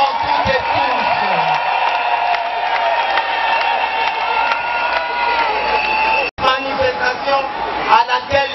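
An audience at a 8 March 2019 women's day celebration in Kinshasa applauds and cheers for first lady Denise Nyakeru Tshisekedi, steady loud clapping with whoops over music and a voice on a PA.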